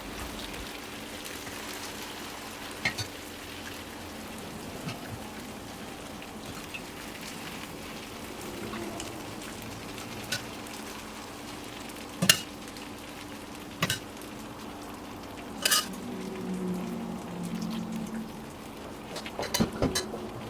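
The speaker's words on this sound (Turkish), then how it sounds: "Ilık olan şerbeti üzerine gezdirerek döküyorum." Warm syrup poured over a hot, freshly baked rolled-dough dessert gives a steady soft hiss and crackle like light rain, with a few sharper ticks and taps along the way.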